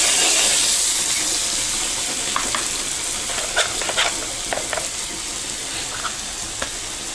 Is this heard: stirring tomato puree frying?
yes